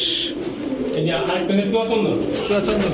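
Pigeons at a pigeon market, including Pakistani Teddy, Kamagar, Cobra, Shahranpuri and Rampuri breeds, coo close by. A trader keeps talking over the steady cooing.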